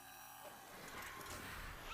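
Microraptor creatures in Ark Survival Ascended giving shrill honking, squawking cries over a dense noisy game backdrop, several calls close together within a couple of seconds.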